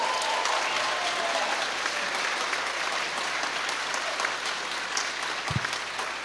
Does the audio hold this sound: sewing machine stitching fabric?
no